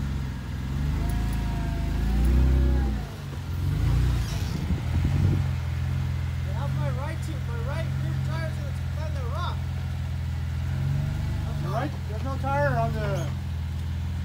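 An off-road vehicle's engine drones and revs on a rocky trail as it climbs over a rock, a steady low rumble with surges, while voices talk over it.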